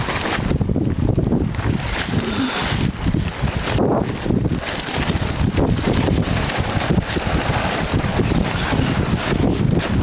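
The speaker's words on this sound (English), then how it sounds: "Our tent is completely mushed by this wind above here." Strong gusty wind buffets a tent on an Oregon sand dune, roaring loud and continuous across the microphone with rushing, flapping bursts and no voices.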